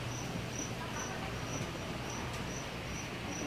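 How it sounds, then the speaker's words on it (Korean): A grasshopper at the Cheongwon flower festival in Korea gives faint, evenly spaced high chirps over a soft, steady outdoor background hiss. "얘는 뭐 메뚜기."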